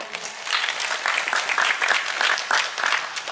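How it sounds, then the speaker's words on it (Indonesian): Audience applause at an Islamic talk in Trenggalek, a steady burst of many hands clapping that holds for a few seconds at moderate volume. "Monggo tepuk tangan."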